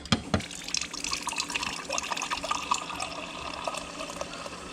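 Water runs steadily through a fridge water line, a close, trickling and splashing flow like liquid filling a glass, with a couple of knocks at the start.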